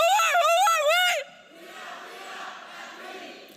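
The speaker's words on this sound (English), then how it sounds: "please join me in the cheer" At a high school graduation, a crowd of graduates shouts a loud, rising group cheer that stops abruptly, followed by a softer wash of distant crowd noise and scattered cheering.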